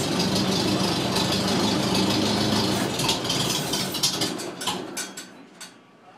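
A 1953 Terratrac 500 loader engine runs steadily with a rough, rattling mechanical knock, loud and close, then eases off and fades toward the end.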